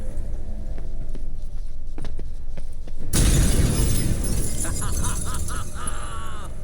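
In The Witcher 3: Hearts of Stone, a mirror shatters with a sudden loud crash midway, followed by a spray of tinkling glass fragments settling over a few seconds after some quieter footsteps and clicks.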